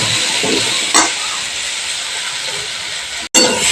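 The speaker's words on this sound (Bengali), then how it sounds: "আলুটা আগে ভালো করে ভেজে নিই।" Potatoes frying in oil in a pan over a raised gas flame make a loud, continuous hissing sizzle, with a couple of brief bursts and a momentary dropout near the end.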